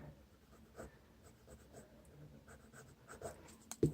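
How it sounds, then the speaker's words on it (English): A pencil eraser rubs out lines on a one-point perspective drawing in a series of faint, short scratchy strokes, ending with a louder knock, heard alone and close. "Erase a little bit out."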